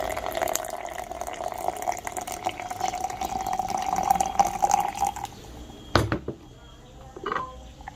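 Water is poured into an AeroPress coffee brewer holding Ninety Plus Geisha Kambera coffee, a steady close trickle for about five seconds, followed by a sharp clack and a brief rattle.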